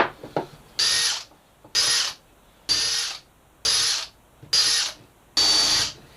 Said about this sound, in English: So I'm just going to countersink all of these.